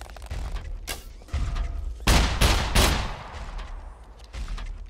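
Gunfire in the survival video game Scum: a quick string of sharp shots with two heavier bursts close together midway, loud and near, then a fading tail.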